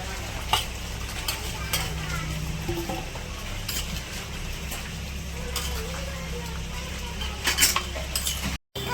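Hilsa fish frying in a pan, a continuous close sizzle with utensil scrapes and clinks against the pan, and voices talking faintly over it.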